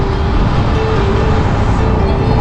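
Dense road traffic on a hill route near Kempty Falls in Uttarakhand, a loud steady wash of engine rumble and tyre noise with a faint tonal whine, constant and close.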